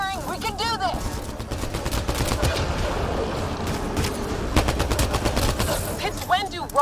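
Rapid gunfire fills a Mass Effect Andromeda firefight, dense bursts and sharp shots running continuously at close range while voices shout over the battle.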